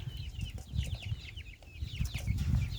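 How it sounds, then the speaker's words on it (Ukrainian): A flock of young chicks peeping continuously and overlapping inside a small greenhouse, close by, with a low rumbling background throughout. "Так, ми прийшли до моєї теплички. По-перше, тут в мене курчата."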